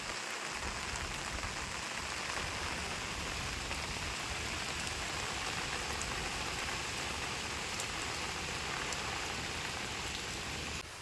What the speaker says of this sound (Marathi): पाऊस पण भरपूर आला आहे चालूच आहे पाऊस बघा